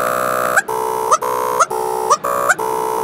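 Looping synthesizer tone built from a source sample in a wavetable, a steady harmonic note repeating about every half second with a brief upward pitch glide at each loop point, loud and alone.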